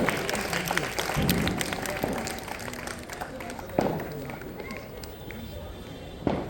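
Audience clapping at a school annual day function, welcoming a guest with a plant, runs steadily under an announcer's voice and other voices, with a couple of sharper bursts along the way.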